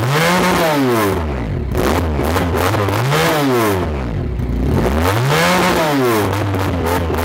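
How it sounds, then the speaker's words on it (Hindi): Yamaha R1 2021 replica motorcycle with a 400cc twin-cylinder engine on its stock exhaust, revved repeatedly up and down in three loud, close sweeps from idle, with no talk over it. "अब आप देख सकते हैं इसको, ये स्टॉक में इस किस्म की साउंड प्रोड्यूस कर रहा है।"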